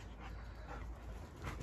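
A German Shepherd dog whines softly in short high-pitched bursts, with faint panting in between, close by in a quiet room.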